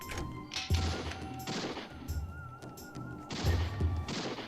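Gunshots in the Mad Dog McCree video game, a rapid series of sharp cracking blasts with thumping impacts and a brief ringing tone, several shots in close bursts.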